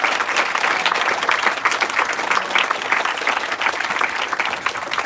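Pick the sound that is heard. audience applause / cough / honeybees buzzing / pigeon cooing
audience applause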